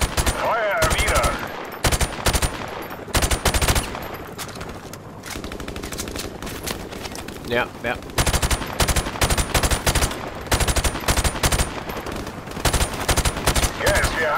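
Repeated bursts of rapid automatic gunfire in the video game Modern Warfare Remastered, loud and close, broken by short pauses and a brief spoken reply.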